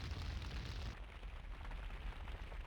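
A loud, roaring rush of fire burns in Minecraft during a mob battle between an Evoker and Lycanites dragons, a dense continuous crackling roar that drops slightly in intensity partway through.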